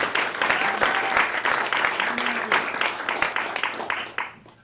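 Applause from a comedy show audience in Corvallis, Oregon, loud, dense clapping that fills the room and carries on steadily before tapering off at the end.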